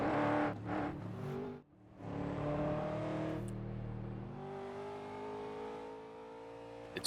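A Stockcar Brasil race car in iRacing revs and accelerates through the gears, with a brief dip in the engine note at a shift, then a steady, moderately loud engine drone that climbs again.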